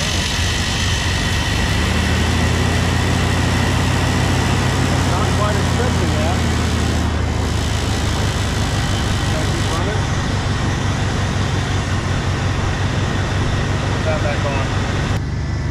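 A 1991 Chevy S-10 truck engine, being cranked and started, runs loud and close throughout, a low rumbling idle with continuous mechanical noise and no clear pauses.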